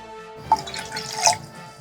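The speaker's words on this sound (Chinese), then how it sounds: "再倒入次氯酸钠100cc" Sodium hypochlorite bleach is poured into cold water in a measuring cup, making a brief, close, quiet trickle with a couple of distinct splashy drips.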